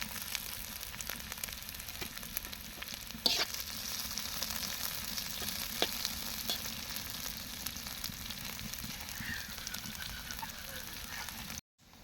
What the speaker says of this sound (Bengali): তো পেঁয়াজ মরিচটা ভাজা হয়ে গেছে